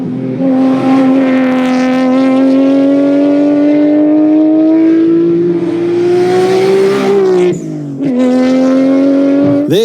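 The 4.4-litre V8 of a 2023 BMW X7 M60i revs loud and close, its pitch climbing steadily before dipping briefly and surging again.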